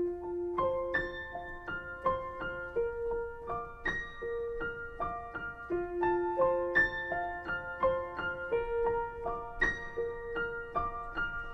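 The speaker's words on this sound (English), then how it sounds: "But I'll be playing the full toy piano part," The toy piano part of a song played on piano, a bright repeating melodic figure of single struck notes in steady eighth-note rhythm, moderately loud and close, with no speaking.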